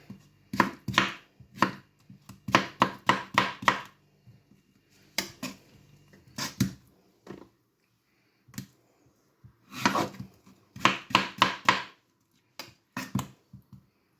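Melon being chopped into medium pieces with a knife on a cutting board, giving bursts of quick, crisp, close chops in several runs separated by short pauses, with no talking.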